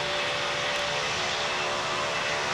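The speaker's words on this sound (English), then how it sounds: "plane taking off KLN" An airplane taking off at Greater Rockford airport, a loud, steady broadband engine roar that fills the scene without a break and with no voices over it.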